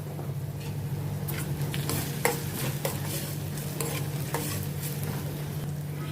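Cumin seeds crackle and sizzle in hot oil for a spinach dish, giving a continuous close frying hiss with a few light stirring scrapes and a low steady hum beneath.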